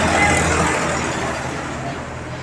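Tractor passing by outside, a loud broadband engine rumble that is strongest at the start and slowly fades as it moves away, with a voice speaking over it.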